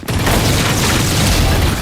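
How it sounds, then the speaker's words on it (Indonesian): A flashbang detonates in the Valorant video game, a loud, dense burst that fills the short stretch at a steady, high level with no pause. "Flashbang."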